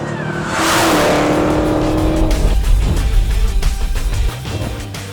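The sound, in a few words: Dodge Challenger Hellcat launching for a quarter-mile run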